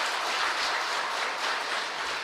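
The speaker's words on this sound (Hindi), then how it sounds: "अपने लिए जोरदार ताली बजाएंगे सभी" Audience applause fills the whole moment: a dense, steady wash of clapping from a group at a motivational activity session, loud and even throughout, with no talking over it.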